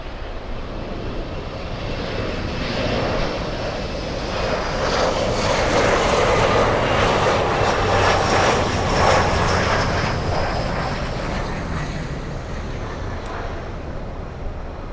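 A large airliner arriving from Caracas, Venezuela roars as it approaches Miami International Airport, a loud, continuous jet rumble that swells to a peak midway and then slowly fades, with outdoor wind around it.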